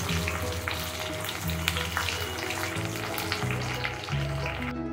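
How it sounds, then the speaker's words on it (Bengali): Fish heads fry in oil for a moong and masoor dal, a dense close sizzle with steady crackle and occasional light stirring, loud and uninterrupted by talk. "মাছের মাথাগুলো ভেজে তুলে দেব"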